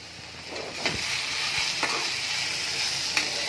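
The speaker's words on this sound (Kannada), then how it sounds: "ಎಲ್ಲ ಹಾಕ್ಕೊಂಡು ಸ್ವಲ್ಪ ಫ್ರೈ ಮಾಡ್ಕೊಳ್ತೀನಿ." Steady hot-oil sizzling fills the pan as salted ingredients for ridge gourd chutney fry, broken by a few scraping strokes of a spoon stirring the food.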